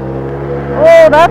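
An ATV engine in all-wheel drive churns steadily along a soupy, muddy stretch of Phinney Mountain Road in Annapolis County, Nova Scotia, its low drone swelling briefly as a voice cuts in near the end.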